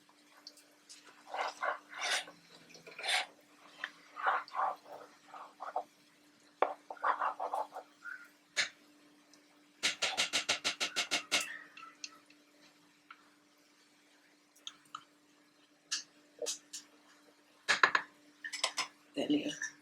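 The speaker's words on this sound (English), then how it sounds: "Stir very well." Brown stew fish being stirred in a pot: a spoon clinks and scrapes against the pot in scattered knocks, with a fast rattling run of stirring midway, over a steady low hum.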